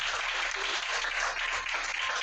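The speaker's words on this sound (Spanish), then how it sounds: "Denle fuerte palmas al Señor, hermanos." A church congregation claps loudly and continuously in steady, dense applause that fills the whole moment, with no voices standing out.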